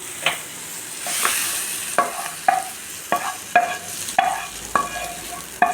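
Village-style country chicken gravy with curry leaves stirred on a stove, a spoon scraping the pan in repeated strokes over a steady close sizzle, with no talking.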